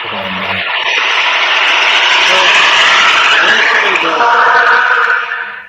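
Airplane taking off, a loud broad roaring rush that builds and holds steady before tapering off at the end, with a brief voice at the start.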